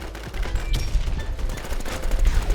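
Dense bursts of gunfire in the online shooter Warz, with rapid overlapping shots rattling steadily and loudly throughout.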